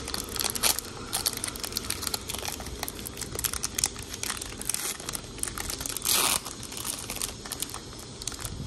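A Commander Legends Magic card booster pack is torn and its foil wrapper crinkled open up close, with continuous rustling and crackling throughout and a louder tearing burst near the end.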